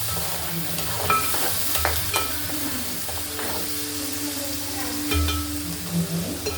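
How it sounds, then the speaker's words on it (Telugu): Paste made from two large onions sizzles and fries in a pan, a steady crackling hiss with occasional stirring scrapes throughout, close and fairly loud with no talking. "సో ఇలా ఆనియన్ పేస్ట్ అంతా కూడా బాగా పచ్చివాసన పోయే వరకు కూడా బాగా వేగనివ్వాలి"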